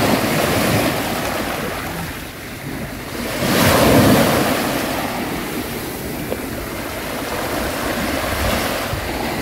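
Sea waves wash onto the beach at Crikvenica in a continuous close surf roar with gusting wind noise on the microphone, cresting into a louder swell around the middle. No voices are heard.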